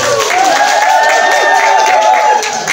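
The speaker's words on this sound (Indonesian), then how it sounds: "Tepuk tangan Bu Rodia" Audience applause at an Indonesian religious-affairs award ceremony in Malang, honouring a community leader; a steady, dense wash of clapping fills the whole stretch, joined by a sustained tonal hum.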